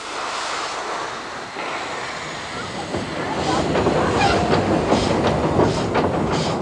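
A steam train rumbles along with a loud, continuous chugging and rhythmic clatter that grows heavier midway, a steady mechanical roar close by.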